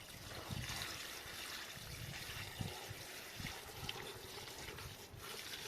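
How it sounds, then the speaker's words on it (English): Plain tap water trickles and pours into a container for homemade organic fertilizer, a faint, steady dribbling stream with small splashes throughout. "And next step is to pour some. We don't need to use warm water or anything."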